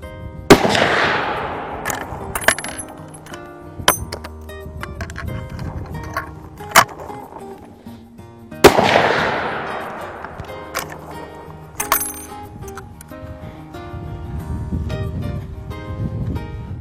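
A 9.3x62 hunting rifle fires two loud shots several seconds apart, each cracking sharply and rolling off in a long echo, with smaller clicks and handling noises in between.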